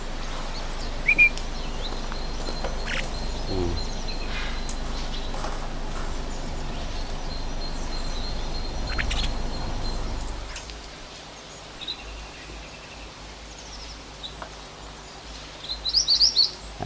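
Small tame pet birds chirp in short, sparse tweets over a soft, steady background hiss that drops away partway through, with a few brief louder rustles near the end.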